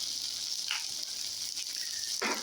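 Lamb meat and onions cooking slowly on melted sheep tail fat, giving a soft, steady sizzle with a few brief crackles and pops, quiet and continuous with no talking.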